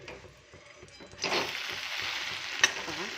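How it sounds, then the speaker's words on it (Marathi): Leftover batter breakfast frying in a little added oil after being flipped in a pan, a soft steady sizzle that swells louder partway through, with faint scraping and a brief clink, no talk. "त्याला पलटून घेऊया थोडंसं तेल ॲड करूया कारण वरची साईड पण छान अशी भाजली जाईल"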